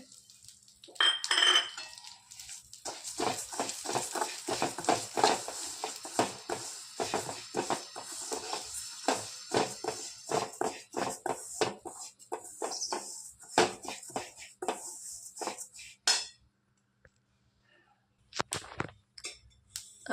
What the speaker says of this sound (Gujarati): હવે આપણે જે તલ લીધા હતા એ તલ હવે શેકી લઈશું